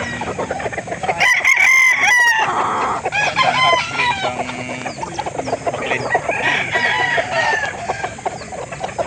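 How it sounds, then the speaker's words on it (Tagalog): Three-year-old Boston gamefowl rooster at a game farm, crowing loudly and close several times, with clucking and other farm birds calling around it and no talk. "Ito po ang manok ng Maya Game Farm."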